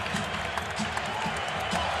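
A Chicago basketball crowd roars and cheers on its feet during a big scoring run. The din is dense and continuous, with a commentator talking over the noise.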